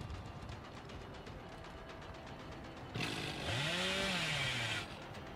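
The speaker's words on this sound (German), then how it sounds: "Sie fallen nicht auf das Kettensägen-Antäuschen herein." Chainsaw revving in the horror game Dead by Daylight, a sudden loud burst of engine whine rising in pitch, held for about two seconds before cutting off, over steady background game ambience.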